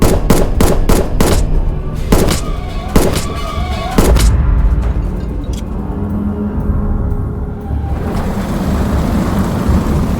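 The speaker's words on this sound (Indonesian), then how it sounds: "seseorang pria masuk yang kemudian menembaki Beng dengan sejumlah berondongan peluru" Film gunfire as a man is shot with a burst of bullets: a rapid run of sharp loud shots in the first four seconds, then a dense rumbling action-scene bed with music and effects.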